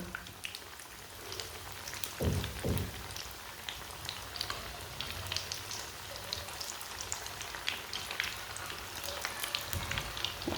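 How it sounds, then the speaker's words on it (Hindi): Crispy chicken pieces fry in a pan with a continuous, fairly quiet crackling sizzle like light rain, dotted with small pops and a couple of soft knocks early on, heard alone. "एक मिनट के लिए ये वाली साइड से फ्राई होने देते हैं"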